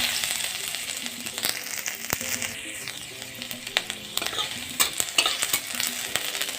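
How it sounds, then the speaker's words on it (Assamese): Chopped ginger frying in hot oil for an Assamese chutney, with a steady crackling sizzle and the scrape of stirring throughout, close by and with no voices. "তেলখিনি গৰম হৈ গ'ল, ইয়াত এতিয়া মই দি দিম কাটি থোৱা আদাখিনি।"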